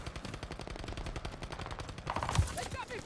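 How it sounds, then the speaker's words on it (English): Rapid automatic gunfire from the video game Call of Duty: Vanguard, dense bursts of shots rattling continuously at close range with a heavier blast near the end, no talk over it. "Guys shooting me from behind."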